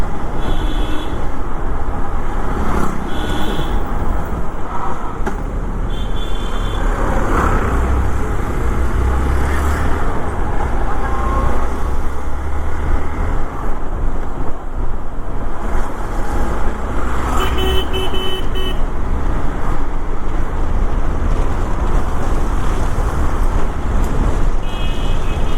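Traffic on National Highway 732 near the Uttar Pradesh–Bihar border, a constant loud roar of passing vehicles with repeated horn toots and beeping, steady throughout with no pause.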